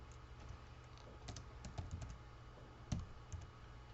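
Fingers type on a computer keyboard in a quiet room, a soft, irregular patter of key clicks with one slightly louder tap near the end.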